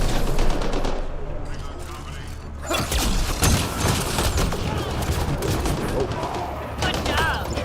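Rapid automatic gunfire in the Mass Effect: Andromeda video game, loud dense bursts of shots continuing nearly throughout, with a brief lull early on and voices mixed in.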